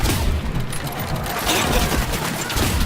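Super mutants open up with miniguns in the video game Fallout 4, a dense, continuous roar of rapid gunfire with booming low-end impacts filling the whole stretch, no pauses between bursts.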